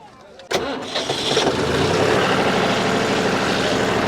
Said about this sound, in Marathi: हे आपल्या ट्रॅक्टरच्या आर आरपीएम ने हेच करणारे मशीन आहे